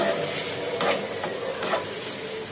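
Onions and spices fry in oil for shahi biryani, a steady loud sizzle with a few scraping stirs of the spoon against the pot, close and continuous without speech.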